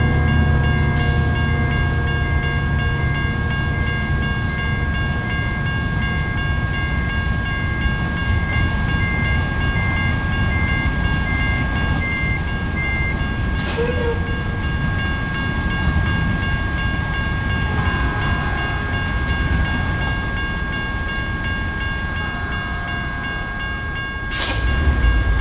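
A Union Pacific freight train in a driving video game passes near and loud, its wagons rumbling and clattering continuously, with a sustained horn tone at the start and a few sharp clanks along the way.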